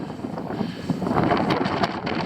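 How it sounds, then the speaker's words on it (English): Gusty wind blows across the microphone near Peveril Castle, producing low rumbling buffets and rustling bursts that swell and fade. "It's just really windy, it's a big wind tunnel."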